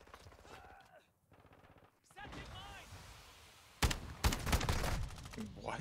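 Gunfire in the video game MW2, with bursts of loud rapid shots near the end following quieter game sounds and a player's voice.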